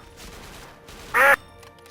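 A single short, loud duck quack sound effect rings out clearly over a quiet, low background.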